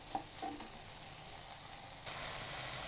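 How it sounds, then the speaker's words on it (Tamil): Chopped capsicum is sautéed and stirred in a pan with onion, tomato and green chilli for a paneer curry: a soft, steady sizzle with a few light scraping knocks, then a slightly louder hiss. "இந்த கேப்சிகமும் ஆட் பண்ணி நல்லா வதக்க போகிறோம்"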